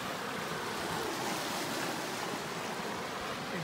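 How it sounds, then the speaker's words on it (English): A swollen river roars steadily at a night-time catfishing spot. The rushing water is a dense, even wash of noise with no voices over it. "You can see the river's dropping. Dropped about a foot today. Still roaring pretty good though. You can hear it."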